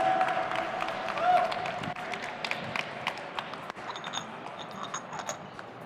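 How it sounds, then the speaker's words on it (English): Applause from an audience at a barista championship, with a crowd clapping steadily and dense patter that thins into scattered claps toward the end. "Let's give Brooke a big round of applause for her milk beverages."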